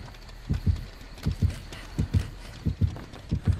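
A killer's heartbeat warning in a horror video game thumps as steady paired low beats, repeating evenly throughout at moderate loudness with no talking.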